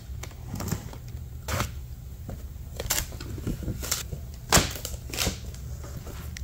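A utility knife cuts open a cardboard box for a Prolux CTX Storm. It gives a series of short, dry, scratchy slicing and tearing strokes, moderately close, separated by uneven pauses over a low steady room hum.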